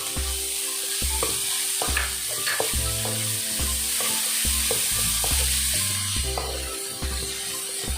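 Cooked chicken sizzles and is stirred in a hot pan, a constant frying hiss with scraping, while loud low music notes play throughout.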